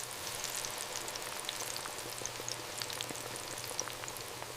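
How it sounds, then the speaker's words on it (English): Chicken nuggets frying in oil in an industrial fryer at a large nugget factory, a steady soft bubbling sizzle with fine crackling pops, continuous and fairly quiet with no voices. "Instant frying locks in shape and flavor."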